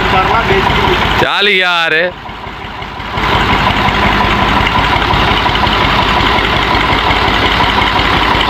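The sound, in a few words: tractor engine idling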